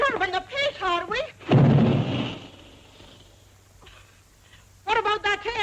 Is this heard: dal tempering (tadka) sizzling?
no